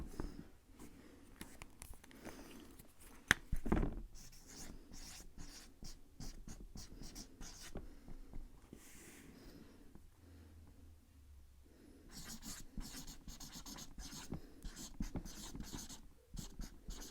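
Pen scratching on paper close up, irregular rustling strokes with a brief pause in the middle, fairly quiet and without talk.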